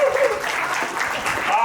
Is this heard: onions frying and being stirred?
no